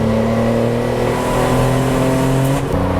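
A cheap budget track car's engine drones loudly from inside the cabin on a racetrack straight, a steady mid-pitched note holding revs, with a brief shift in tone near the end.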